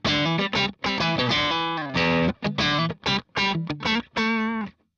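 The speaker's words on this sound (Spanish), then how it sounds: "Contamos con 5 presets de diferente ganancia." Electric guitar played through a NUX MG30 multi-effects unit on its low-gain 5% preset, a series of clear strummed and picked chords with bright harmonics, short gaps between phrases, loud and close with no talking.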